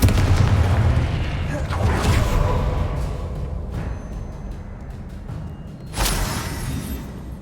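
The Confringo explosive spell in Hogwarts Legacy goes off in heavy booms: a loud blast at the start, another around two seconds in, and a sharp one near the end, each fading into a rumbling tail.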